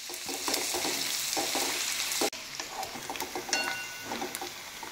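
Chopped onion with cumin sautéing in oil in a pan, a close, steady sizzle with scraping stirring strokes and a brief break midway.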